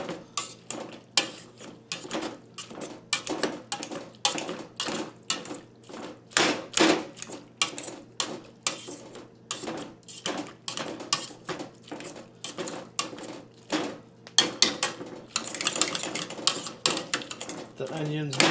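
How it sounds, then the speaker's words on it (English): Squash being mashed with an old potato masher in a bowl: a steady run of repeated soft thuds and clacks, close and fairly loud, continuing for a long stretch with brief pauses. "Gonna mash this squash up."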